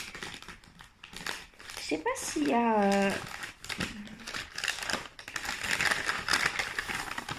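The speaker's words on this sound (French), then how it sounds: "Excusez-moi pour le bruit de papier." Paper crinkles and rustles close by in irregular bursts, loudest in the middle and again near the end, while someone speaks briefly in French over it.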